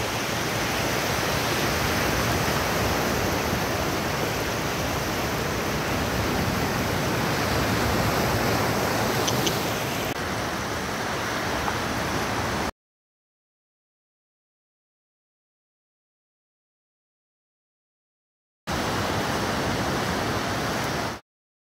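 Ocean waves at sunrise on Palawan Island in the Philippines, a steady broadband wash of surf that stays loud and continuous, then cuts out into silence before returning briefly.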